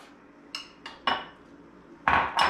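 A spoon knocks and scrapes against a container while Korean chicken marinade is portioned out, giving a few sharp clinks spread unevenly, with the loudest two near the end, close and clear, and no talk.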